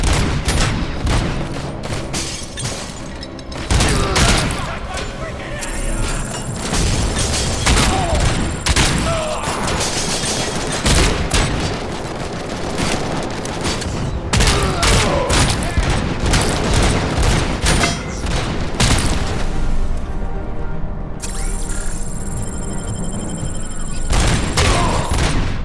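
Grenade blasts and rapid gunfire from the Robocop: Rogue City video game pound almost continuously, loud booms layered over dense bursts of shots, with a voice talking intermittently over the combat.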